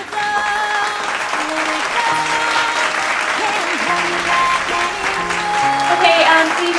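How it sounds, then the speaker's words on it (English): A studio audience applauds a doctor with loud, sustained clapping, while tonal voices and cheers carry over the steady wash of hands. "let's give a big warm round of applause to Dr."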